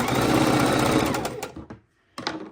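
A sewing machine runs fast and loud, stitching through two layers of batting and two layers of fabric for a soup bowl cozy, then pauses briefly before a short final burst of stitching.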